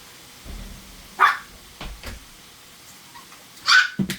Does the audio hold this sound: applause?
no